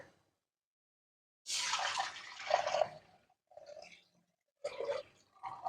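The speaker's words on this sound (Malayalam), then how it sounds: "രണ്ടര കപ്പ് വെള്ളം ഒഴിക്കാൻ പോവാ" Water poured into a pan of Modha fish curry in a home kitchen, about two and a half cups, a loud broadband splash for over a second, followed by shorter pouring bursts.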